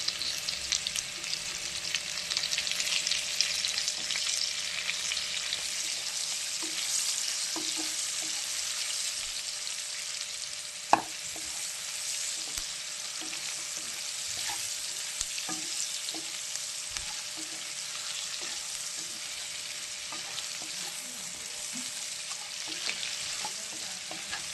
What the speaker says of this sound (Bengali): এবার আলুর মধ্যে আমি পেঁয়াজগুলো ভাজতে দিয়ে দেবো।